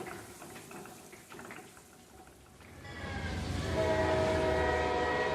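A prairie train passing in Saskatchewan swells from a faint distant rumble into a loud, close roar with rhythmic track clatter and high metallic squeal.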